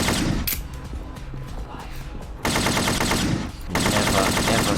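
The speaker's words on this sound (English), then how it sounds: "I'm going to go back to the machine gun" Machine gun fire in the first-person shooter Cosmic Purge: dense rapid bursts of shots broken by short pauses, loud and close, with mechanical clatter between volleys.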